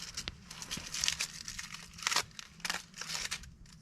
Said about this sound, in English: you're gonna get all that tin foil off